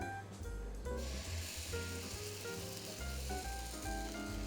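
Banana pancakes fry two at a time in a pan, giving a steady, soft sizzle that runs unbroken through the clip, mixed with a tonal background.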